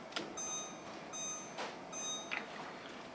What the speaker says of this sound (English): Set my timer for 10 minutes.